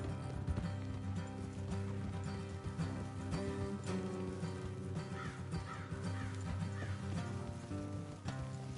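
Horse hooves clip-clop in an uneven rhythm amid game music and ambience in Red Dead Redemption, with occasional crow-like caws above, moderately loud throughout.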